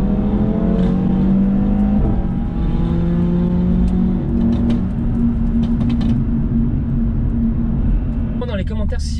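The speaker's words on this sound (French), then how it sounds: "le 5 cylindres, il fait un boucan les gars" An Audi RS3 five-cylinder engine revs hard nearby, its rising and falling tone steady and loud throughout, with a voice talking over it.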